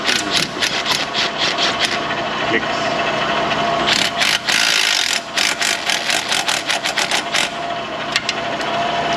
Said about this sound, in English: let's run these bolts in for this cover